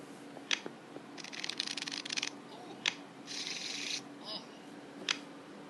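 A deck of Exploding Kittens cards being shuffled during a tabletop game, heard as two quiet riffling bursts with a few soft taps and clicks between them, close by and alone.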